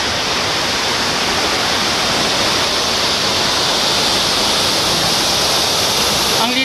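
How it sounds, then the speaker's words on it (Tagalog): A waterfall in Catanduanes roars as a steady, dense rush of falling water, loud and close, filling the whole scene without letup and with no voices audible over it. "Andito ako ngayon sa falls sa may Catanduanes."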